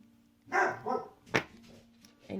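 Dogs bark in two quick bursts, then a sharper single bark, with a further bark at the very end, fairly close indoors over a steady low hum.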